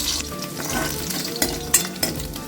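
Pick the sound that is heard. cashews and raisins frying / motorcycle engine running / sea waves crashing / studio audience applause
cashews and raisins frying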